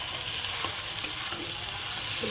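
Grated potatoes, salted and lightly sugared, sizzle steadily in a pan while a utensil stirs them, scraping and tapping against the pan in a few distinct knocks.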